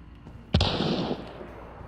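A single close gunshot from Hunt: Showdown cracks out sharply and rings on in a roughly half-second echoing tail, with no talking.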